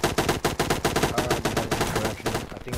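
Rapid automatic gunfire in Operation Harsh Doorstop, a fast steady burst of sharp shots repeating about every tenth of a second, loud and close, with no talking.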